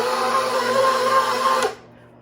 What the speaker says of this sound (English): Now when I turn the mixer back on, I'm going to turn it on to the second speed because we're kneading